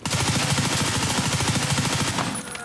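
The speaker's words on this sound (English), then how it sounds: "Nice shooting, Tex." Rapid automatic gunfire in Escape From Tarkov, one dense, loud, continuous run of closely spaced shots with a steady rhythm, sounding close, with no talk over it.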